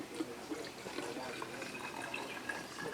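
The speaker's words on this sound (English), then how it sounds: "need to add 3 more cups of water. And I'm going to do it in this jar right here." Water is poured into a glass jar while reconstituting freeze-dried barbecue sauce, a soft continuous trickling and splashing that stays faint and steady throughout.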